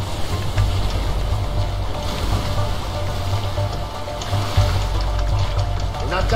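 Loud, steady roar of rushing rapids and a waterfall during a whitewater rafting sequence in the game A Way Out, a dense continuous wash of churning water with low rumble throughout.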